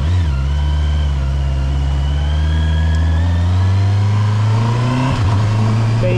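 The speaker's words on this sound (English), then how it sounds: "Changing gear with the clutch shifter without using the clutch" Honda motorcycle engine with E-Clutch running steadily, its tone dipping briefly near the end as a gear is changed through the clutch shifter without using the clutch lever.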